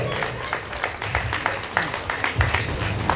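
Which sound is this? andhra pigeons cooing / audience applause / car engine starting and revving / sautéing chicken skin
audience applause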